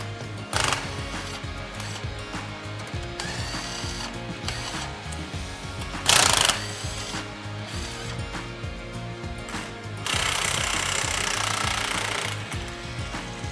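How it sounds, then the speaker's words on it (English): A ratchet wrench works loose four bolts on a PVP double disc pump, its rapid pawl clicking running steadily and loud with bursts of harsher mechanical rattling, no voices present. "The final step of disassembly is to remove these 4 bolts so that we can replace the clack valve."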